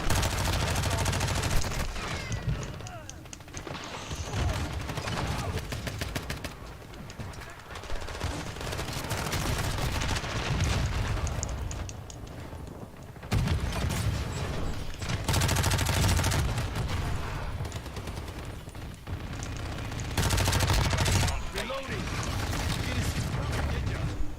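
Sustained automatic gunfire in the shooter Warzone 2, loud and continuous for the whole stretch, with rapid bursts and mechanical clatter and only brief lulls, a voice speaking faintly underneath.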